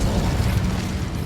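A fire spell, Incendio, is cast in Hogwarts Legacy, giving a dense, steady roaring whoosh of flame that holds loud for just over a second with no pause.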